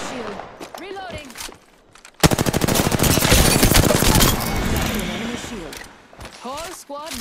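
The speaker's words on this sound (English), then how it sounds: "Getting shot at." Rapid automatic gunfire in the Apex Legends video game, a dense sustained burst of shots from about two seconds onward, loud and close, with voices talking before and after the firing.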